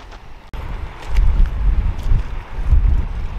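Strong wind by a river buffets the microphone in loud, low rumbling gusts that swell and ease over a few seconds, with no voices.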